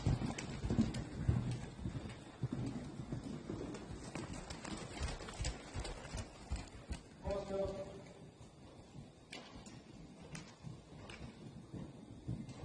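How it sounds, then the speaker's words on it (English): Horse cantering in a riding lesson, rhythmic hoofbeats thudding on the ground at moderate distance, with an instructor's voice speaking over them. "I would try to just canter the crossroad."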